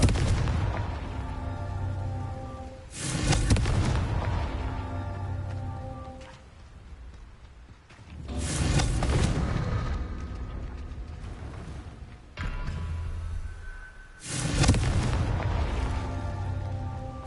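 Confringo fire spell blasts in the video game Hogwarts Legacy, four heavy booming explosions a few seconds apart, each followed by a rumbling, crackling decay under a steady ambient bed.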